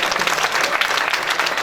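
An audience at a mushaira poetry gathering claps in a dense, continuous burst of applause, loud and close, with no gaps.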